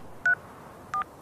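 Two short telephone keypad tones, pressed while dialing an ambulance, sound clearly and alone against a quiet background with a pause between them.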